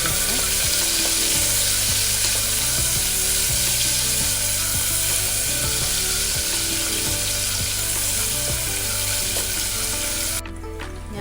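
Sliced onions fry in oil inside a pressure cooker for beef vindaloo, a loud, dense, continuous sizzle heard close up with no talk, cutting off abruptly at the very end.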